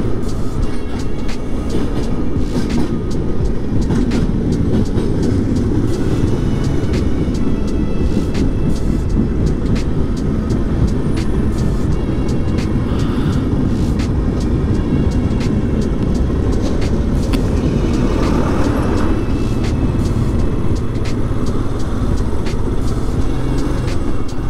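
A train rolls past with a loud, steady rumble and rattle that lasts about twenty-five seconds, with no voices heard.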